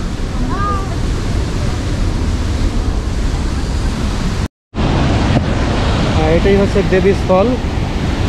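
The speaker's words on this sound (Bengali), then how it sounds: "দেখেন পানির কি গর্জন।" Devi's Fall waterfall in Pokhara gives a loud, continuous roaring rush heard close, with a voice talking over it and a brief dropout midway.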